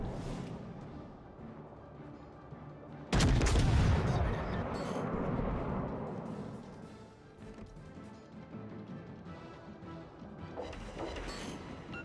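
Warship main guns fire in World of Warships: Legends, a sudden loud booming salvo that rolls out and decays over a few seconds, with ongoing battle rumble before and after.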